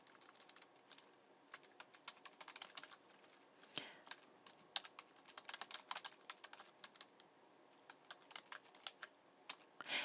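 Fast, irregular keystrokes clatter on a computer keyboard while text is entered in a word processor, close and crisp, with short pauses between bursts and no talking.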